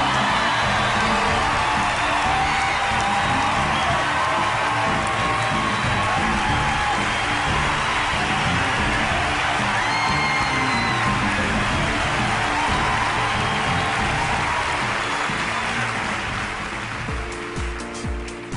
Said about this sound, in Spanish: después de esta ovación tan impresionante de todo el Teatro Astor Plaza